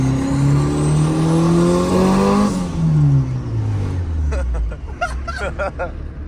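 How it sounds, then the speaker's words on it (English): Turbocharged Honda B20 engine revving hard through VTEC crossover, a loud rising engine note that shifts pitch and falls away, followed by excited voices talking over the fading sound. "We got turbo and VTEC crossover now."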